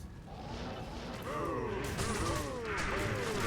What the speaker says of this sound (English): Corpse explosion.